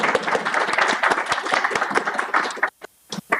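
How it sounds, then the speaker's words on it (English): A lecture audience at a Brooklyn College event claps in a short, lively round of applause that stops abruptly, leaving a few scattered claps and a brief voice. "Susan, can we give you a little round of applause here?"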